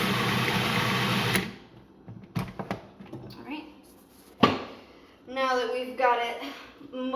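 Food processor whirring loudly for about a second and a half while chopping tomatillo salsa ingredients, then stopping, followed by scattered clicks, a sharp knock and soft humming afterward.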